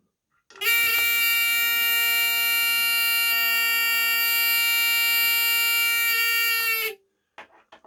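An electric buzzer in a school physics circuit with two bulbs and a switch drones loud and steady for about six seconds, then cuts off, followed by a few faint clicks.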